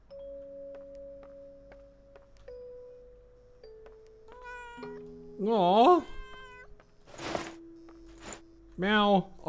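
Several wavering, drawn-out cat meows in the horror video game Layers of Fear: Inheritance, close and clear, the loudest near the middle and end, over soft sustained musical tones and a few light clicks.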